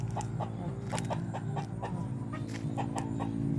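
Chickens cluck in short repeated bursts on a Thai self-sufficiency garden farm, moderately close over a steady low rural hum.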